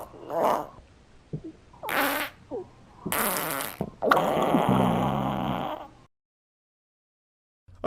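Loud cartoon farts in an animated short come in several separate bursts, some short and some drawn out, the last one long and rumbling, followed by silence.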